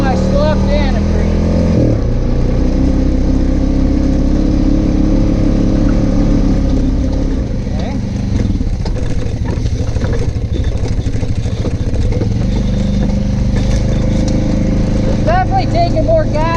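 Honda Pioneer 500 UTV with an EPI wet clutch spring upgrade and 32-inch tires, engine revving and pulling under load: a loud, steady droning motor with rising and falling pitch, heard up close throughout.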